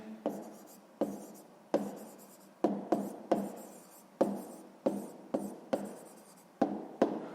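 Pen strokes tap and scratch on paper while numbers are written for a sixth-grade maths exercise, about a dozen short, crisp, close strokes with quiet gaps between them and no voice.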